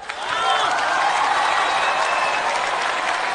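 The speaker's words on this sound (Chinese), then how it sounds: "谢谢大家的热情掌声" A theater audience applauds warmly for a crosstalk comedy duo on stage, dense steady clapping swelling up and holding loud and close, with a few faint whistles over it.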